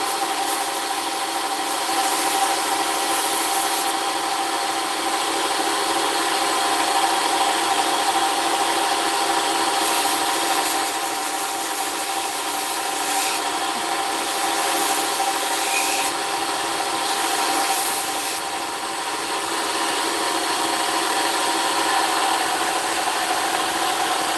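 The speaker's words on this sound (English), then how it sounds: "I'm still rocking the blade, trying to get rid of that ridge line that I had that we seen when I first put the bevel on." A knife blade's bevel being sanded and sharpened on a powered sander, a continuous rough abrasive rubbing over a steady motor hum. It holds at a fairly even level throughout, with brief swells where the blade is rocked against the belt.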